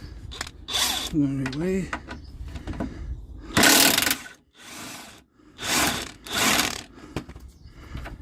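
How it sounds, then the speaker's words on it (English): A big DeWalt power tool tears at damaged steering and suspension parts on a 2020 Ford Fiesta ST, firing in several loud, harsh bursts with pauses between them while someone speaks briefly. "Use the big boy, the big DeWalt."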